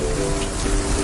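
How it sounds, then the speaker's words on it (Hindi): Heavy rain pours down during a village storm, a dense, steady hiss of drops with no voices over it. "बारिश होने लगी और गर्जना ऐसी थी जैसे कोई विशाल ड्रम बजा रहा हो।"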